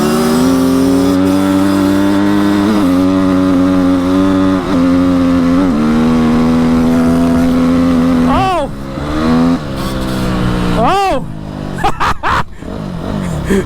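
Stock Honda CR125R two-stroke and CRF250R four-stroke dirt bikes riding, a loud sustained engine drone that rises in pitch with several revving shifts and sweeps near the end.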